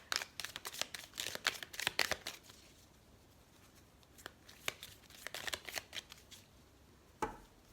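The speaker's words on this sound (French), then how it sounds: "Alors, on va couper le jeu." A deck of tarot-style reading cards being shuffled and cut, with bursts of rapid riffling and flicking clicks, a quieter pause, then more shuffling and a final sharp tap as the deck is cut.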